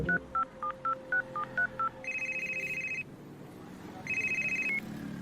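A phone is dialed with a quick run of eight touch-tone beeps, then the line rings twice with long electronic ring tones separated by a pause, close and clear.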